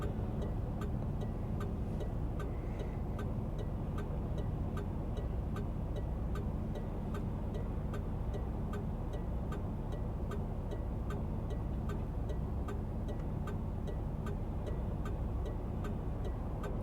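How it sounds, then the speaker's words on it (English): A 1988 IROC Z28 engine idles with a low, steady, even rumble that holds constant throughout and is heard at moderate distance, with no talking. "I think it actually idles smoother than the GTA."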